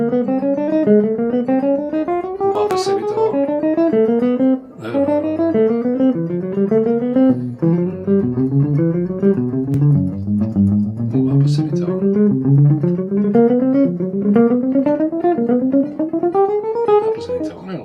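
A guitar plays an alternate-picking exercise across groups of three strings, producing fast, even runs of picked notes that climb and fall in repeating waves, close and clear with no talking.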